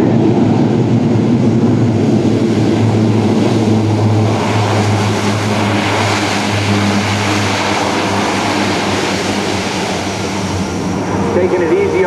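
A C-130J-30 Hercules turboprop touches down on landing at an air show, a loud steady propeller drone and roar filling the scene throughout with a low engine hum underneath.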